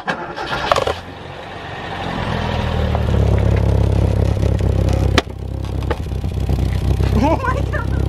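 Toyota Corolla fitted with a cheap one-dollar ricer exhaust, its engine starting and then droning loudly and steadily as the car pulls away, with a brief dropout midway and voices talking over it.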